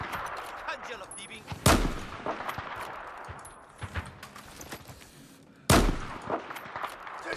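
Sniper rifle fire sounds in a Battlefield 4 multiplayer match, two sharp, loud gunshot cracks several seconds apart over quieter in-game battle noise and scattered distant shots.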